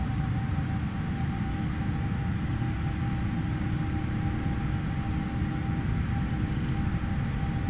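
PMDG 777F freighter engines spooling up to takeoff thrust in a flight simulator, a steady, loud, broadband jet roar with a faint whine running unchanged throughout.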